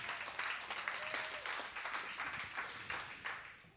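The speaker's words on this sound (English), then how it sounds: "So yeah, you can clap for that, that's cool." Audience applause at a live concert in Nashville fills the room, a dense wash of clapping that swells in waves and stays steady throughout.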